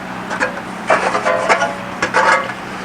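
An aluminum bonnet panel for a Jaguar E-Type is trimmed in several short, close rasping and scraping bursts with brief pauses between them, over a low steady hum.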